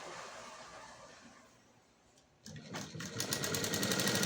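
A sewing machine stitching a blouse, quiet at first, then after a short lull whirring faster and louder in a steady run of rapid stitches, heard close with no talking.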